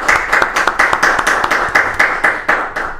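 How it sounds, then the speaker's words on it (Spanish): A few people clap in a loose, uneven rhythm during a Spanish-language interview, close and fairly loud, with distinct individual claps rather than a large crowd. "Fabuloso, o sea que un aplauso."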